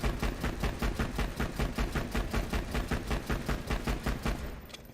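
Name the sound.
gunfire from a gun in the video game Borderlands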